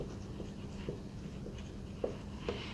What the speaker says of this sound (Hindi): नेक्स्ट फैक्ट लिखेंगे, 4 भाषा परिवार